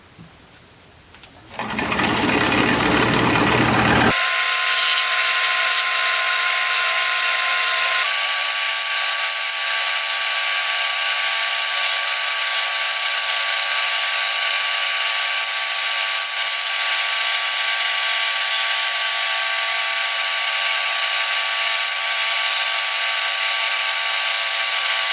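Power tool cutting a key blank: a short rising clatter as the motor spins up, then a loud, continuous high whine with steady grinding that runs unbroken, close up, with a slight shift in pitch partway through.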